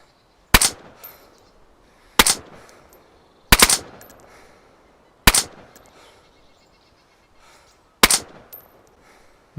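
Five loud, isolated gunshots in DayZ, spaced a second or two apart, each a sharp crack with a short echoing tail into near silence between them.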